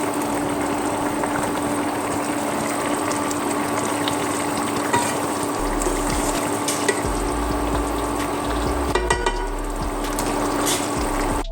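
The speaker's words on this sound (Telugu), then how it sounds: "ఇవి నైఫ్తోని కట్ చేసుకొని ఇలా వేసుకుంటున్నాను" Halved boiled eggs fry in a pan of egg curry, giving a steady loud sizzle and bubbling with a constant hum and occasional clinks as pieces are added.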